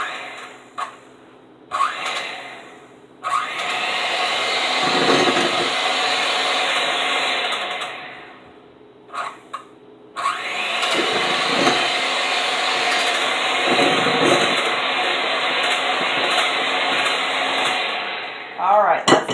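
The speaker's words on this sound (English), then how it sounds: "we're going to mix it with our little beater here to mix it up really good" An electric hand beater whirring through melted chocolate and butter in a home kitchen, running in two long steady stretches with brief stops between them, loud and close.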